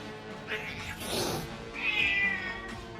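A kitten gives a couple of short, high meows, one thin and plaintive, up close and alone over a low background hum.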